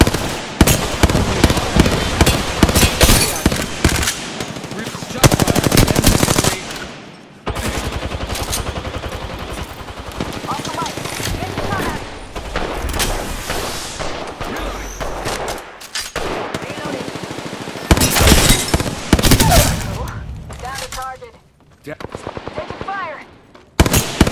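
Rapid automatic gunfire from an Apex Legends firefight, loud bursts and rattling volleys coming in waves with brief lulls, and a voice talking over parts of it.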